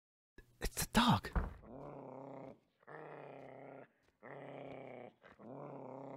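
Dog growling in the horror video game Cannibal Abduction, a sharp snarl followed by four long, low, rumbling growls separated by short pauses.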